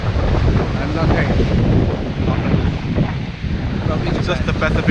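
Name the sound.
Pacific Ocean waves and wind at the beach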